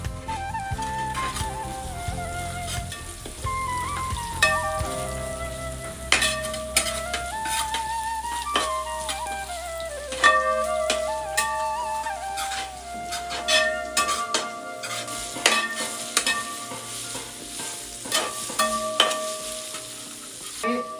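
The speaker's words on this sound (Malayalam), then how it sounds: "എണ്ണയിലും നെയ്യിലും കിടന്ന് മൂത്ത് കിട്ടണം." Curry leaves frying in oil and ghee give a steady crackling sizzle, with occasional stirring and pan clinks, beneath a melodic music track playing throughout.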